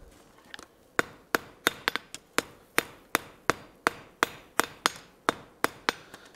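Hot iron hammered on an anvil while forging a colonial-style trivet: a steady series of about sixteen sharp, ringing metallic strikes at an even rhythm, close and clear with no talking.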